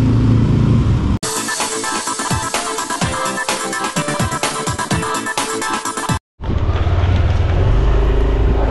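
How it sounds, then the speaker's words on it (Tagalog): A motorcycle engine runs loud and close, revving in uneven surges with a brief cut-out near the end before picking up again; no talk is heard. "ngayon ko lang uli na i-drive tong motor"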